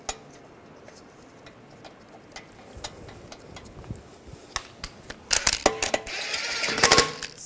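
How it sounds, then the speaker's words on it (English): Metal lug bolt being started by hand into the wheel hub of a 2009-2010 BMW 535 xDrive, a few faint metallic clicks and ticks, then a louder run of scraping clinks near the end in a quiet garage. "Take the lug bolt,"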